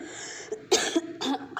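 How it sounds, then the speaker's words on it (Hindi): A woman coughs several times in short bursts, close and fairly loud, while cleaning a store room. "तो खांसी आ रही है, अभी तक मेरी खांसी नहीं ठीक हो रही है।"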